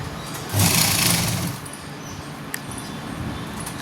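A sewing machine stitches the back neckline of a suit in one short, loud whirring burst, then fades to quieter handling noise with a faint click.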